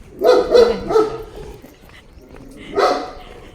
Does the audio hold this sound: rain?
no